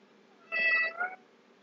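A single drawn-out meow from a house cat, close and fairly quiet, rising then dipping with a short second inflection at the end, alone in a quiet room.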